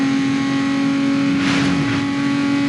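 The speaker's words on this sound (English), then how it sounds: "So we are rocking the shit out of this engine," Car engine revving in the racing video game Need for Speed Underground 2, a loud sustained engine drone with a brief surge of throttle midway, steady and close throughout.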